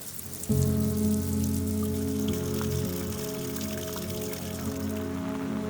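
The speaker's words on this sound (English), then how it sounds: "It's really coming down right now. There's no light breeze anymore. Proper rain." Heavy rain pours down on a city street in Kyoto, a steady close hiss of drops striking surfaces, with a low mechanical hum running underneath.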